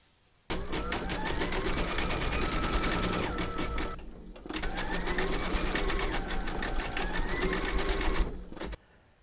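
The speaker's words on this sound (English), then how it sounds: "stitch round number" An embroidery sewing machine stitches a round of a bunny design, a fast steady mechanical rattle running in two long bursts with a brief pause between them, close and clear with no talking.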